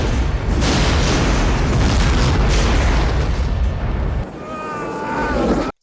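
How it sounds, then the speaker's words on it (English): A space station explodes in the sci-fi horror film Hellraiser: Bloodline: a loud, roaring blast surges for about four seconds, then drops to a quieter rumbling tail before cutting off abruptly. "And then it explodes."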